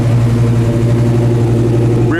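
A 1968 Chevelle SS V8 rumbles steadily through dual exhaust, a loud, close idle with a deep even throb and no clear revs.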